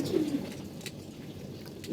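Pigeons in a loft of breeding pairs give soft, low cooing that carries through a steady indoor murmur, with a brief brighter call near the end.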